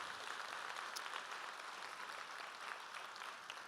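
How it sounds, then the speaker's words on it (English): Graduation ceremony audience applauds in a large hall, a continuous, even wash of clapping heard at a distance and fairly faint, with no voices. "You can clap for that."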